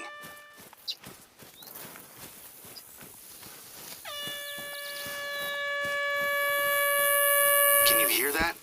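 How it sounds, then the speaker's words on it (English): A loud, sustained air horn in the video game The Hunter: Call of the Wild blares and swells over several seconds after a short earlier blast, over faint rhythmic background tapping and low chatter. "An air horn app."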